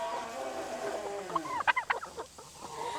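Several chickens cluck and squawk in short, choppy bursts, fairly close, over a low background murmur.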